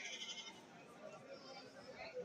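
Goats bleat at a crowded goat market in Kerala, with faint, distant cries mixed into a murmur of people talking in the background.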